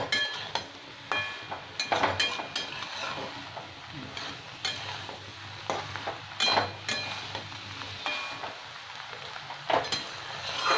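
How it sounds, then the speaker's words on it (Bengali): A spoon scrapes and clinks in a pan of bottle gourd and prawn curry with slit green chillies, its water cooked off, for a minute or two. The irregular strokes are close and busy over a faint sizzle. "এবার 1-2 মিনিট নেড়ে ছেড়ে নেবো।"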